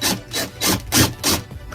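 A screw gun driving screws to mount an LED light inside a boat, with four rhythmic grinding bursts in quick succession, close and fairly loud.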